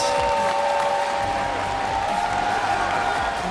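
An esports arena crowd at a League of Legends match between SK Telecom T1 and Fnatic at MSI 2015 cheers and applauds in a loud, steady roar, with no pauses.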